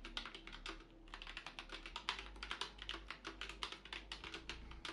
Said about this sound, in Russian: клавиатура звучит достаточно тихо